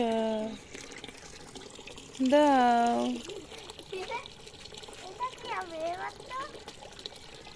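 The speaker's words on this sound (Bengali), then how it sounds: "গাছে পানি দিচ্ছ" Water poured onto potted plants, including a mango tree, in a rooftop garden: soft splashing and trickling beneath an adult and someone talking.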